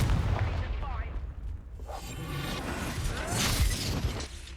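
Confringo spell blasts in the video game Hogwarts Legacy during a battle: booming explosive bursts and whooshing magic effects, with shouted voices over the clamour.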